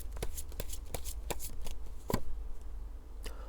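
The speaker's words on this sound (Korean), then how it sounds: "두 번째 카드 한번 뽑아보도록 하겠습니다" Tarot cards are shuffled and drawn from a deck, giving quick papery riffles and flicks in an irregular rhythm, close and clear, with no voice.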